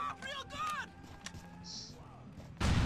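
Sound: explosion in the video game Grand Theft Auto IV

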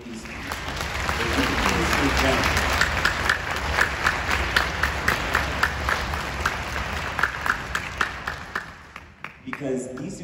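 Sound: audience applause for parents and teachers

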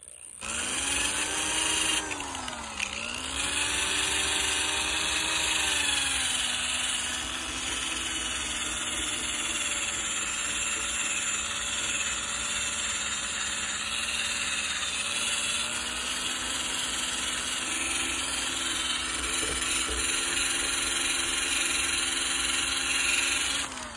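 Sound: eraser wheel on a power tool removing 3M shield from an RV

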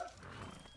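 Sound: horse in the video game Red Dead Redemption 2

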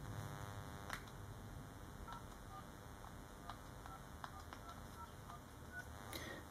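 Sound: telephone dialing tones through Jabees Bluetooth speakerphone

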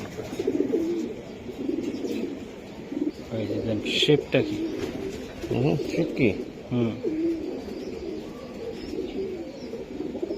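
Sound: pigeons cooing

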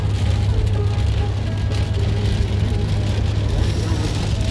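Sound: heavy rain

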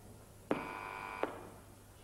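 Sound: telephone ringing or dialing tones

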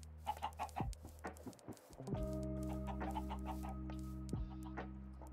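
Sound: chickens clucking in video game Minecraft

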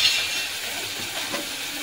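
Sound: ginger paste sizzling in hot oil

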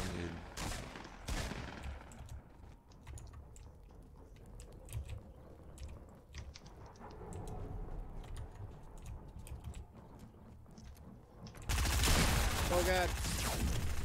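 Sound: gunfire in a shooter video game

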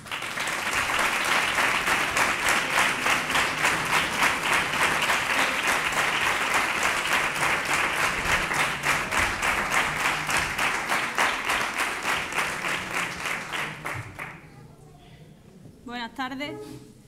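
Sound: audience applause

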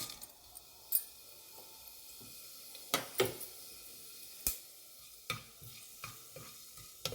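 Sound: fennel seeds sizzling in hot coconut oil

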